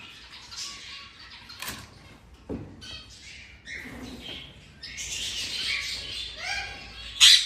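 Parrots and other birds calling in aviaries, scattered squawks, chirps and sharp whistles at varying distances, with occasional wing flapping and a loud close squawk near the end.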